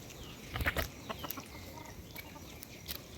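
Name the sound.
black chickens (karunkozhi) clucking in a village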